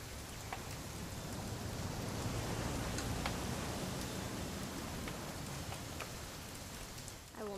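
Steady rain in the video game What Remains of Edith Finch hisses continuously with scattered drop ticks, a dense even wash of noise with no voices heard.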